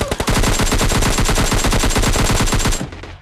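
Rapid automatic gunfire from a PUBG Lite match, a dense burst of evenly spaced loud shots lasting nearly three seconds before cutting off abruptly.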